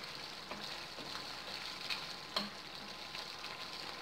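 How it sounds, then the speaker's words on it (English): Paneer masala gravy simmering in a pan gives a faint, steady bubbling hiss, with a few soft pops and small clicks scattered through it and no voices. "the gravy has been boiling for about 10 minutes and this is how it is"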